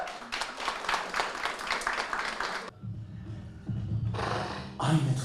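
Audience applause greeting the general manager of hipodrom.com as he comes on stage at an event, a dense burst of clapping that stops abruptly, followed by brief quieter murmur and renewed noise.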